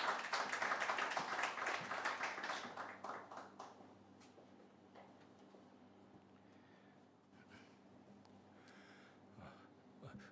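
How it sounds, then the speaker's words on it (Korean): A church congregation at a Wednesday worship service gives warm clapping to welcome the pastor to the pulpit, loud and dense at first, then thinning and fading out after about four seconds into quiet room tone. "따뜻한 박수로 모시겠습니다."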